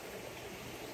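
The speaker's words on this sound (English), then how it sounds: "You can hear the rapids a little bit, the ripples off of it" A small creek flows beside a motorcycle route in the Blue Ridge Mountains, with rapids and ripples making a steady, close, broadband rush of water that holds even and continuous with no talk.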